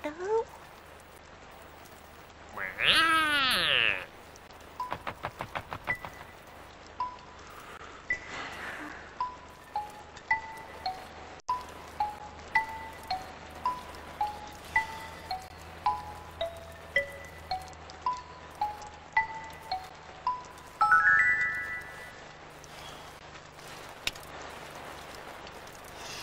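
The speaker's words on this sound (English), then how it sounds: "I love the sound of rain on the tent." Rain drops tapping on a tent while camping, in a slow, regular patter, with people talking nearby and brief louder rustling now and then.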